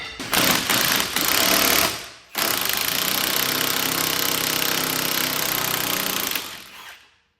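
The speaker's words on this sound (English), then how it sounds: "So now we've just got to undo this anti-roll bar drop link." Loud, continuous rattling whir of an impact wrench undoing a rusty anti-roll bar drop link on a Fiat 500, running in two long bursts with a brief pause between, close up and without talk.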